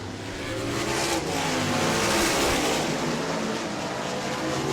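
Sprint cars roar around a dirt oval at Auburndale during a Southern Sprint Car Shootout race, a dense continuous engine howl from several cars at once that swells and recedes at a distance.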